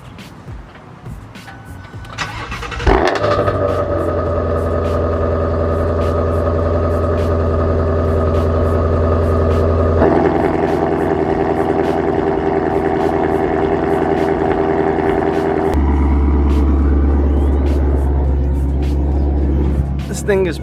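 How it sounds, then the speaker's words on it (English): A Shelby Mustang GT350R cold-starts with a brief starter whir, then catches into a loud, rumbling high idle that steps down in level twice as it settles, close and steady with faint talk in the background. "Let me give you guys a quick little cold start while we're at it."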